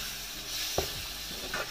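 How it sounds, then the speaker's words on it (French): Seasoning mixture with crushed garlic and a seasoning cube being stirred in a pan for lasagne, a faint sizzle under a couple of soft scraping strokes. "et je mélange."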